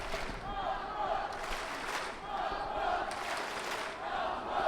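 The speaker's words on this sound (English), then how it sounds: "Crowds start chanting." Spectators at a judo Grand Prix in Montreal chant in a steady, swelling roar, with rhythmic pulses rising and falling across the arena, a few voices standing out over the broad crowd noise.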